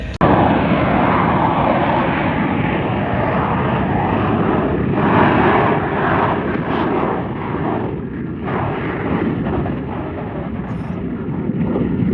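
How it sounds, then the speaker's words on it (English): F-16 fighter jet flying at the Yuma air show, a loud continuous roaring engine blast that rises and falls slightly as the aircraft passes nearby. "uniform, Major Easter in the F-16"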